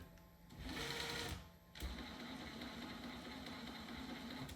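A brushless Axe 3300 motor in a TRX-4 2021 Bronco RC truck whirs steadily in reverse, a continuous mechanical whine with a brief dip partway through, close and moderately loud.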